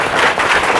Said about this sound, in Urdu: آج زوردار تالیاں خدا کے جلال کے لیے بجائیں گے